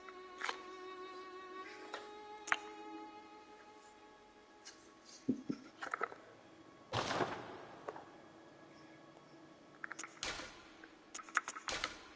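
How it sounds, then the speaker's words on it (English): Game controller buttons click and tap in scattered bursts during a Bloodborne playthrough, sharp close clicks with pauses between, over a faint steady background hum. "That's not my keyboard, that's my controller."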